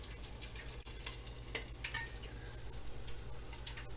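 Pork pata frying in a pot of oil as the water cooks off, a steady close crackling sizzle with scattered sharp pops and spits, settled rather than violent, alone with no talk.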